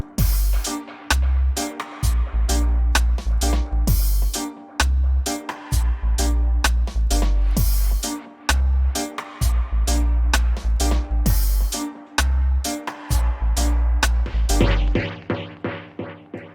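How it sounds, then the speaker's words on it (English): Bright, high-pitched piano chords inverted up an octave, played in a lively, steady rhythm for several seconds, close and clear with no voices, fading out at the end. "We get a brighter sound."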